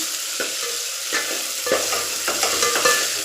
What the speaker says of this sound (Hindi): तड़का लगाने के लिए यहाँ पर प्याज भून रही हूँ मैं